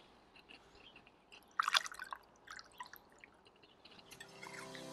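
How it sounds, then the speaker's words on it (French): Elderflower fairy champagne drips through a funnel into a small cup, a soft run of bright droplets bursting loudest near the middle, then thinning to scattered drips over faint background hiss. "Et me voilà avec mon entonnoir, ma petite tassette. Et donc,"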